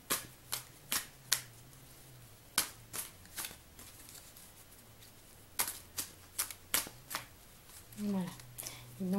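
A deck of oracle cards being shuffled by hand, close quick riffling flicks in short bursts with pauses, a faint hum underneath and a voice speaking briefly at the end.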